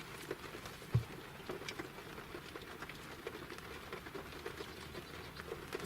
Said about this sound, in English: It's still raining, so that could cause us some difficulties